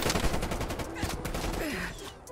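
Rapid, dense gunfire from an AK-47 assault rifle in a Call of Duty-style multiplayer match, sustained bursts filling the whole stretch at close range with no talk over it.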